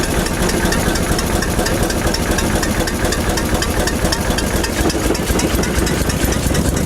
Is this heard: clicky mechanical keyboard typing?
no